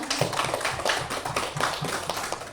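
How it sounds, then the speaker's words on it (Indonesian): Applause from an audience for Ibu Rina after a school presentation on positive culture, a steady patter of clapping hands, fairly close and alone. "sebelum itu kita beri aplaus dulu untuk Ibu Rina"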